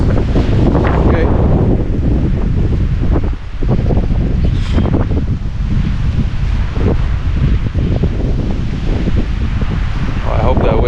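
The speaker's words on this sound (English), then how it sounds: "I hope that wind doesn't get too wild" Strong wind gusting across an open lakeside campsite, buffeting the microphone with loud, continuous rumbling roar and rustling, steady throughout with a brief lull partway.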